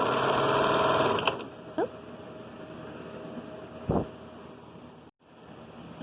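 Sewing machine stitching a rolled hem on a children's outfit, running in a fast steady whir for about a second before stopping, followed by a few brief clicks and bumps and a short spoken exclamation.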